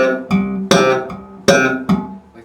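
Bass guitar slapped and popped unevenly, alternating thumb slaps and sharp plucked pops with clearly mismatched loudness, several distinct attacks ringing out without talk.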